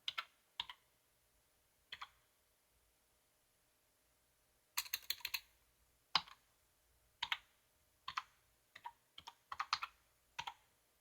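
Scattered bursts of keystrokes on a computer keyboard tap out a password during a Linux Mint login, with short clusters of clicks and quiet pauses between them, close and clear.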